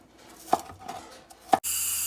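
A knife chopping green onion on a cutting board, two crisp separate knocks a second apart, quiet and close, followed by a burst of steady hiss.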